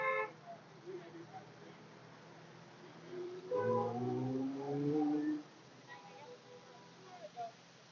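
Several car horns honk in long, overlapping blasts in support of a SAG-AFTRA strike at FOX in Los Angeles, one loud cluster in the middle, with brief speech and street noise in between.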